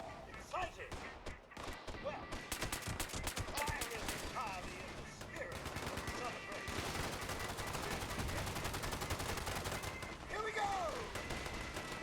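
Gunfire in the video game Fallout 76, with rapid bursts of automatic shots and heavy impacts firing in dense volleys, loud and continuous, alongside a player talking.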